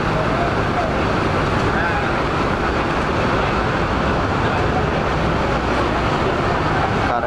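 A bus pulls through the Pondok Pinang bus terminal with a loud, steady engine roar that holds at full strength throughout, with dense traffic-like rumble and no clear pause.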